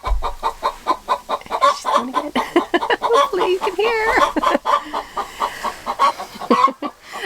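A hen clucks repeatedly in rising, squawking bursts close by while laying an egg, while a person talks over the sounds.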